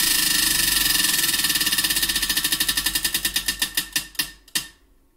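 A prize wheel spins with rapid clicking that gradually slows into widely spaced ticks before stopping, loud and close, with no voices.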